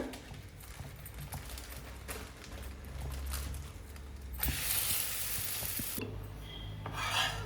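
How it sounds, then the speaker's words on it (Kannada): Palak paratha cooking on a hot tawa, a steady low scrape and sizzle running throughout, with brief louder rasping bursts of turning and pressing near the end. "ಈಗ ಆಲ್ರೆಡಿ ಮಾಡಿದೈತೆ ಅದನ್ನ ಹಾಕೋಣ ತವಾಗ"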